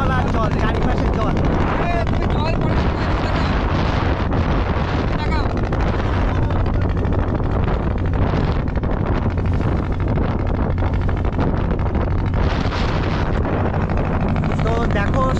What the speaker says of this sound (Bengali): আমার কিন্তু এই নৌকাটা ঢেউয়ের মধ্যে পড়েছে, আর শুধু জল আর জল, চারিপাশে জল।